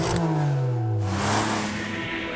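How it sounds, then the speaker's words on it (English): A Ferrari 575 sports car engine with a new exhaust revs loudly close by, its deep exhaust roar rising and then falling in pitch. "You also get a new exhaust, so it sounds like a Ferrari should."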